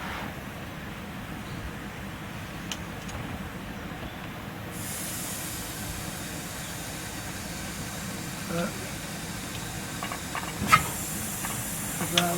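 Air hisses steadily past an engine valve on a stock 318/360 V8 during valve stem seal work. The hiss is constant and close, with a few faint clicks and knocks over it.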